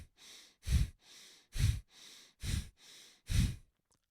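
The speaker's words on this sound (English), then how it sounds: "I'm only breathing in and out of my nose." Breathing in and out through the nose during a breathing exercise, in an even cycle of about five loud, close inhales, each followed by a softer exhale.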